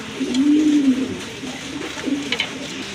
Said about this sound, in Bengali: বিগ সাইজের এক জোড়া রেসার কবুতর সবজি রেসার মাশাল্লাহ